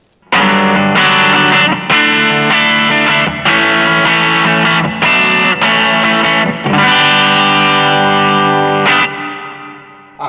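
An electric guitar runs through the hall reverb of a Zoom MS-50G multi-stomp, strummed loudly in rhythmic chord bursts with a lingering ambient decay, close and alone before a final short pause.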